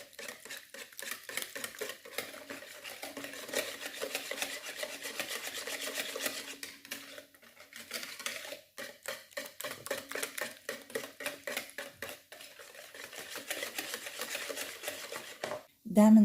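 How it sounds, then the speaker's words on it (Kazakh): A spoon or whisk stirs chocolate cake batter with cold milk and odourless sunflower oil in a bowl, producing repeated scraping, rubbing strokes in an uneven rhythm, close and moderately quiet, with a brief clatter at the end. "Барлығын әдемілеп араластырып аламыз."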